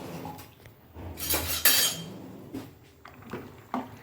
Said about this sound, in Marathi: आणि पाणी उकळलं की आपण हा आता पास्ता जो आहे तो त्याच्यात घालणार आहोत.